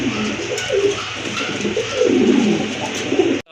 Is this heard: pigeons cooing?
yes